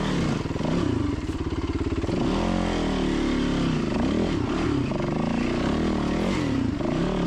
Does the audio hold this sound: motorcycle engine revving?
yes